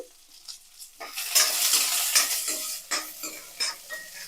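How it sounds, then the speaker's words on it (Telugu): Crushed garlic sizzles loudly in hot oil in a pan while a spoon stirs it, with scraping strokes and bursts of frying that rise and fall, close up and with no talk. "ఈ ఆయిల్లో ఎల్లుల్లిపాయలు చిరక్కొట్టేసుకోవాలండి వేసుకోవాలండి లేకపోతే పేలతాయి"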